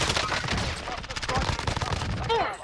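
Rapid video game gunfire in a shooter match, bursts of automatic shots crackling in quick succession at moderate volume, with a player's voice talking over it.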